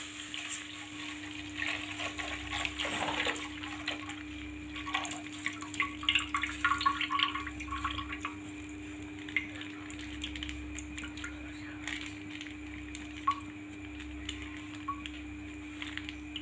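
About a litre of milk, then water, pours into a cooking pot for rice kheer, making soft, uneven splashing and trickling over a faint steady hum in a home kitchen.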